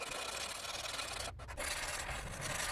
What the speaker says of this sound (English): Now we just file to our scribe lines,